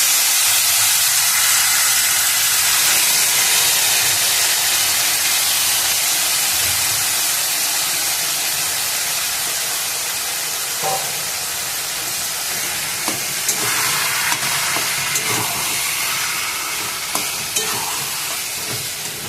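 Taro leaves (kochu shak) dropped into hot oil over tempering spices, a loud, steady broadband sizzle with steam that holds for the whole stretch, with occasional stirring clicks and scrapes in the later part.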